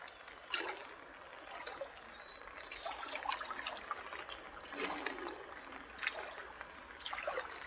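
Floodwater rushing across flooded farm fields like a wide river, a steady watery rush with scattered trickling and splashing bursts, moderately distant and continuous throughout.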